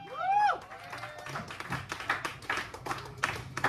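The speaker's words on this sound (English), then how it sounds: "give yourselves a round of fucking applause one time for me." An audience at The V-Spot, a live music venue, claps steadily after a short shout from a voice, with the applause continuing at a moderate level throughout.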